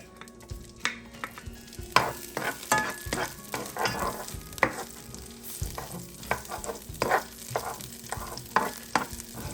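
Four cloves of garlic fry in two tablespoons of olive oil in a pan for a squash and string bean stir fry, giving a soft, close sizzle broken by repeated scraping and stirring knocks.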